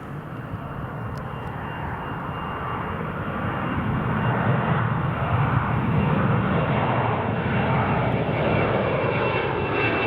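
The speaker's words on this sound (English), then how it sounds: "Hey, that was a sporty takeoff." A fixed-wing airplane takes off at Newcastle airport. Its engine roar builds and holds as a loud, broad, continuous rumble that swells toward the middle, heard with no voices.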